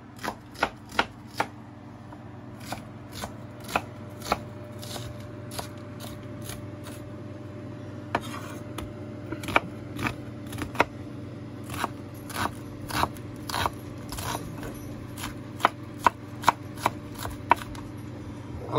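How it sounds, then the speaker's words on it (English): A knife cutting an onion for homemade mac and cheese, a long, steady series of crisp chops on a board, close and distinct, with no talking. "So we'll cut the onion."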